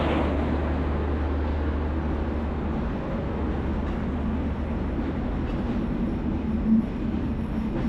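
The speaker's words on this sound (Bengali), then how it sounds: "আমি বর্তমানে এখন আছি চুয়াডাঙ্গা রেলওয়ে স্টেশনে" At Chuadanga railway station, a train rumbles with a low steady drone and rolling wheel noise, continuous and fairly near, with a faint squeal near the end.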